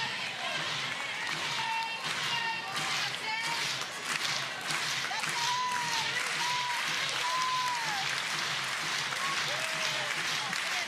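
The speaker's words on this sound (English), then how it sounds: "Crowd trying to get behind Kelly Maxwell, who has found herself with a 4-run deficit" Crowd at a professional softball game cheering and clapping in a sustained wash of applause, with whistles and shouts rising over it, heard from the broadcast position.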